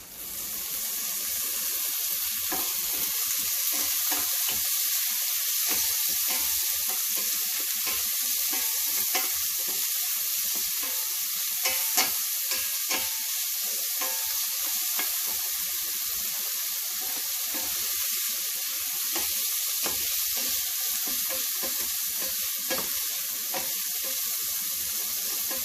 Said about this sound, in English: Let that fry down a little too.